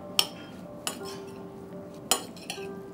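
Utensils clink against a bowl while olive oil, salt and pepper are mixed together, giving a few sharp taps with soft stirring between them, fairly quiet and close.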